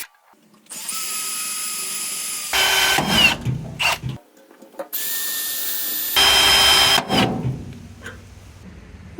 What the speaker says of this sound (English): these are probably going to have to get drilled out.